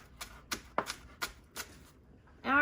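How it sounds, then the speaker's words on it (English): A knife dicing an onion on a cutting board: five or six crisp, close chopping taps at an even rhythm, quiet overall, ending with a brief louder rustle. "we're going to cut through the onion so that we're making dices."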